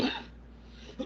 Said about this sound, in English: Excuse me with the coughing there